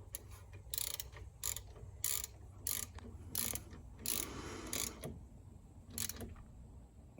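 A ratchet clicks in short bursts while tightening a brake caliper bolt on a Jeep Cherokee Trailhawk, about eight close, crisp rattling strokes separated by brief pauses, with no talking over them.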